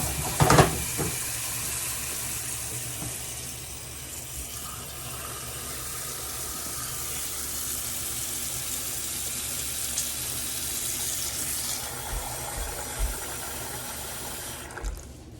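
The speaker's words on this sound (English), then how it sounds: "cover them fully with water." Tap water runs steadily into a pot of potatoes on a home stove, a continuous close hiss and splash lasting the whole stretch with a few clinks near the start and end.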